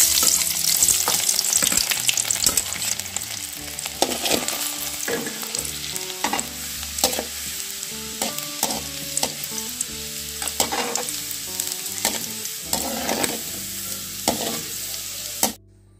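Garlic sizzles in hot oil for inji curry, a loud continuous hiss and crackle up close, punctuated by frequent metallic scrapes and taps of stirring before a sudden stop at the end.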